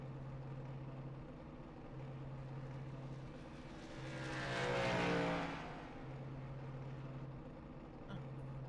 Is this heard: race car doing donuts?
yes